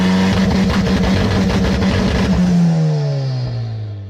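Turbocharged Honda K20 engine swapped into a Mazda truck, its exhaust dumping straight out of the turbo toward the ground, revs hard with a loud, raspy roar, then the pitch sweeps steadily downward as it winds off.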